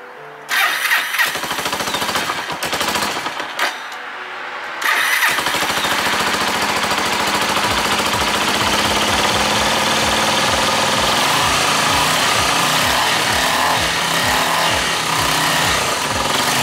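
A heavily modified 250cc motorcycle engine cranks, catches after a couple of tries, then settles into a loud, steady, throbbing idle close by.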